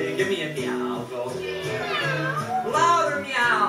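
Children imitate a cat's meow in a rising, playful chorus of voices, several drawn-out mews overlapping and repeating close up with a loud, steady level throughout.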